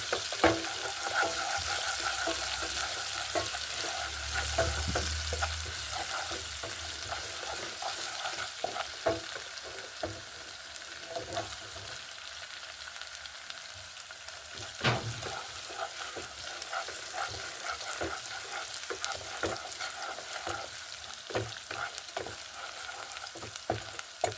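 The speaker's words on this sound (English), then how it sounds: "Then you stir." Raw cooking bananas (matoke) are stirred in a pot over a fire in an African village, with a continuous hissing sizzle and frequent scraping knocks from the stirring stick, heard close up without talk.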